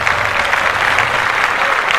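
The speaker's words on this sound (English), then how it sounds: "And clap that up" A burst of steady, close clapping from a small group, even and continuous for a couple of seconds with little else beneath it.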